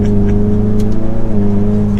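Ford Mustang EcoBoost with the High Performance Package accelerating hard, a loud, continuous engine note whose pitch climbs steadily, heard up close from the car.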